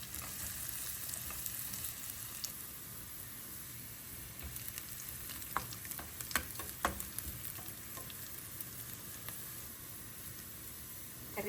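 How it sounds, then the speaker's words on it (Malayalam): Shallots fry in hot coconut oil for a Kerala roasted coconut chicken curry, giving a steady close crackling sizzle with scattered sharper pops and a few stirring ticks, with no talking. "വെളിച്ചെണ്ണ ചൂടായി വരുമ്പോൾ അതിലേക്ക് ചെറിയ ഉള്ളി ഇട്ട് കൊടുക്കാം."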